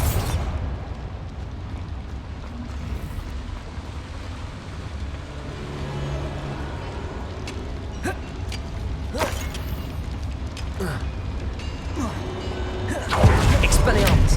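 Spell blasts and magical effects in the Hogwarts Legacy video game, with bursts and pops scattered over a steady rumbling game backdrop and a louder explosive surge near the end, under a voice calling out spell names.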